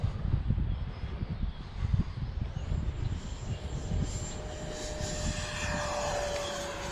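An E-flite Viper 90mm electric ducted-fan RC jet flies past, a rising whine with a steady rushing roar that swells and holds, fairly close and alone.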